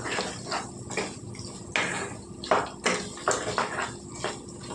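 Spoon scraping and clattering against a pan while potato and carrot kurma with raw masala is stirred, a series of irregular metallic knocks and scrapes close by.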